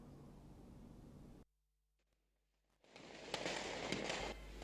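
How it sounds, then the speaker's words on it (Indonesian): New Year's Eve fireworks over Denpasar, Bali, a steady fizzing crackle that cuts to near silence, then returns as loud crackling bursts with sharp pops. "perayaan Malam Tahun Baru 2026 di Denpasar, Rabu hingga Kamis dini hari 1 Januari 2026 tetap dipenuhi pesta kembang api"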